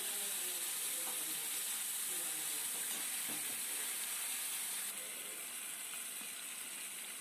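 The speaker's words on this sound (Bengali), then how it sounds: "এবার আমি মাছগুলো ভেজে নেব" Fish pieces rubbed with salt and turmeric fry in hot oil, giving a soft, steady sizzle and hiss that continues evenly throughout with no talking.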